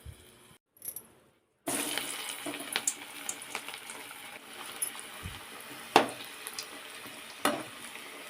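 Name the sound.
puffed rice frying in hot oil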